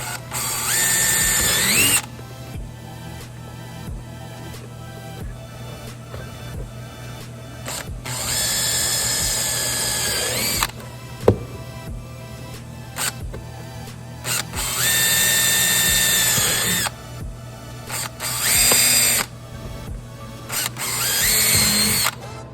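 A power drill whirs in several long bursts separated by short pauses, drilling holes in a Fiber Metal helmet to install a CMR flip-up, loud and close, with a steady mechanical hum underneath.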